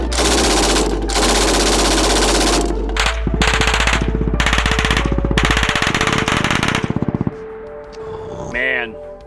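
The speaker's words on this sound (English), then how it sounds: "I'm a little bit hooked on getting shot at by belt-fed machine guns." PKM belt-fed machine gun firing long, loud bursts at close range outdoors, a rapid rattle of shots that stops abruptly, followed by fainter sounds and a brief voice.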